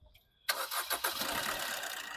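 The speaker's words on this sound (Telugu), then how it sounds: "సింగిల్ సెల్ఫ్లో బండి స్టార్ట్ అవుతుంది సార్." A 2017 Maruti Suzuki Ertiga VDI diesel car starts on the first crank, a short starter whir followed by the engine catching abruptly and settling into a steady, rough diesel idle close by.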